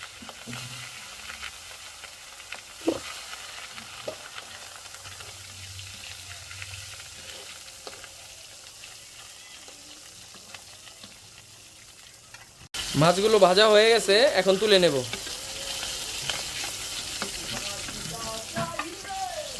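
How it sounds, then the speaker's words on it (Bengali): Rohu fish pieces fry in hot oil in a kadai with a low, steady sizzle and occasional knocks, until a sharp cut brings a louder passage where a voice rises over the frying. "তেল গরম হয়ে গেছে এখন মাছগুলো দিয়ে দেবো"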